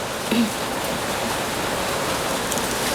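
Steady rain falls in an outdoor Thai kitchen while chili paste with dried chilies, garlic and shallots is prepared, a continuous broadband wash of drops with no talk over it.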